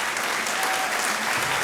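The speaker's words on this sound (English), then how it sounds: "Listen to that crowd, that audience." A live podcast audience claps and cheers in a dense, continuous wash of applause that fills the whole moment, loud and close.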